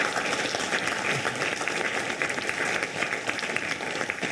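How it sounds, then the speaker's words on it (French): Audience at a French health-sector conference day applauds the organizing staff, a steady, dense clapping that holds evenly throughout without pause. "je voudrais qu'on les applaudisse et qu'on les remercie"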